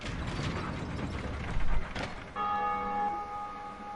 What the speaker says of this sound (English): So that's the second bell.